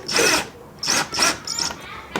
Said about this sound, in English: Move the drill till you go have it straight.